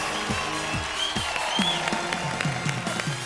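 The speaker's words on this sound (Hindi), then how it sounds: "भाई जोरदार ताली हो जाए करण के लिए।" Studio audience applause on a celebrity chat show, steady clapping with loud rhythmic beats running throughout, as if from a close, energetic crowd.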